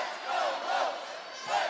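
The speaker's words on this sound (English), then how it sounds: "Crowd rallying the Lopes." Arena crowd at a women's college volleyball match between GCU and Fordham roars and chants in support of the Lopes, a loud, sustained wash of massed voices swelling in waves.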